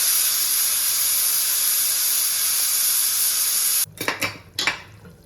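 A pressure cooker holding mutton leg soup vents steam in a loud, steady hiss for about four seconds, then cuts off into a few short, sputtering bursts.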